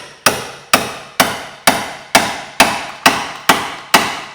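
Nine heavy, evenly spaced hammer blows at about two per second strike a tool wedged between the bottom wishbone arm and the hub of a Vauxhall Corsa C. Each blow is a loud, close metallic crack with a short ringing decay.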